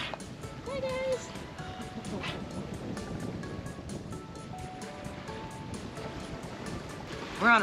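Ocean waves wash steadily around a sailboat on a broad reach with a following quarter sea, the surf noise and wind rush continuous throughout, with people talking nearby over it.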